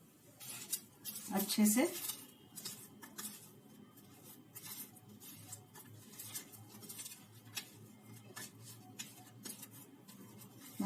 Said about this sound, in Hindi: अब मैं इसको मिक्स कर दूंगी